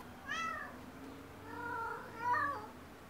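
Cats meowing at a cat shelter in Palestine: three drawn-out meows in a row, the first rising and falling, the last two overlapping and louder, fairly close over a low background hum.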